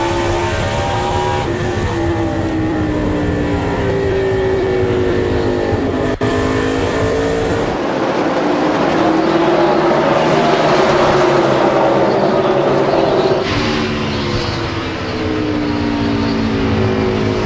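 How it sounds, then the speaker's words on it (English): NASCAR stock cars at the 2003 Pontiac Excitement 400 roar past in a loud, continuous pack, engine pitches rising and falling with overlapping passes and a sharp drop as the field sweeps by. "Greg Biffle on the move"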